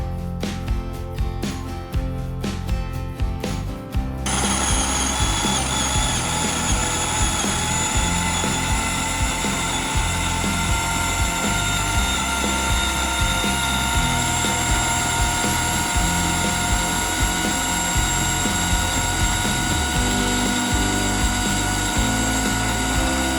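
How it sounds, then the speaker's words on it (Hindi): An electric blender whirs loud and steady as it blends dates with other brownie ingredients, a dense motor roar that runs unbroken for the whole stretch with no talking. "और इन तमाम चीज़ों को आप एक ही साथ अच्छे से ब्लेंड कर लेंगे।"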